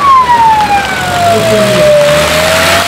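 A police car siren wails loudly and close, its tone sliding steadily downward as the vehicle passes, over faint traffic rumble.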